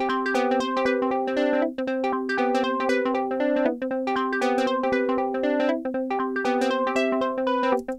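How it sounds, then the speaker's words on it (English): A square-wave pluck synth patch, built in Bitwig's Polymer wavetable synth for a chill house track, plays short, bright, bell-like notes in a repeating bouncy melodic pattern, clean and alone. "So I made this square kind of pluck too, and it sounds like this."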